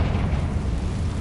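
A Confringo blast spell explodes in the Ravenclaw Wizard 2 video game, a short, dense roaring burst of low rumble that fills the whole moment and then holds at a loud level.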